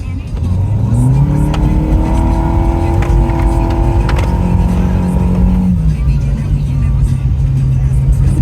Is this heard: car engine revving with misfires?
yes